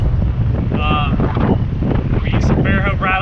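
Strong wind buffeting a fishing boat on Lake Borgne, a loud constant rumble over the microphone, with a few short voices heard briefly above it.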